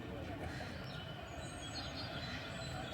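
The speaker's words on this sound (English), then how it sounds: "I think our train is approaching," A train pulls in at a suburban London rail station near Ravensbourne, giving a steady broad rumble of wheels and carriages with a faint high squeal, continuous and fairly close throughout.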